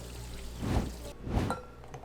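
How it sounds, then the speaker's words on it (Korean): Oysters rinsed under a running tap, a soft steady trickle of water with two brief louder splashing surges as the shellfish are lifted through the stream, close and without voices. "흐르는 물에 굴 속살을 살짝 들어 헹궈준 후 섭취하세요"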